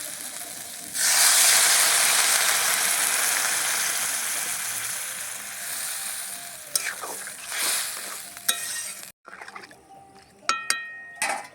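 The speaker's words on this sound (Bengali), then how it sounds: "এবারে জল দিয়ে দেবো পরিমাণ মতো" Water is poured into a hot pan of spiced curry, setting off a sudden loud, sustained hissing sizzle that slowly fades, followed by a few utensil knocks and clatters up close, with no voices.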